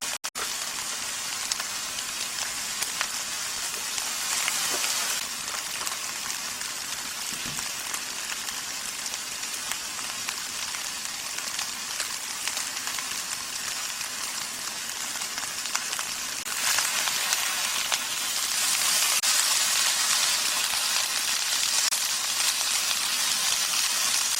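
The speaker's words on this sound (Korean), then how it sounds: "맛살과 햄은 이렇게 좀 구워주겠습니다. 기름 두르지 않고 이렇게 구울게요." Crab sticks and ham frying in a dry pan with no oil, a steady, close crackling sizzle like light rain that runs unbroken and swells louder near the end.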